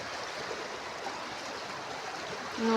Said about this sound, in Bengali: নদীর পানি এখনও উথাল পাতাল হচ্ছে